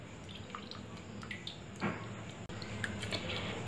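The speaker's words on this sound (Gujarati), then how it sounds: "હવે આપણે જે પાણીમાં પલાળેલા કારેલા હતા તેને આપણે નિતારી લઈશું" Soaked bitter gourds are squeezed by hand to press out water, giving quiet, close squishes and scattered drips and trickles, with no talking.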